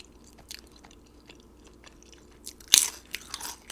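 A crunchy bite into a homemade air fryer double cheeseburger with fries, a sharp close crackle of crunching followed by a few softer chewing bites, with no talking.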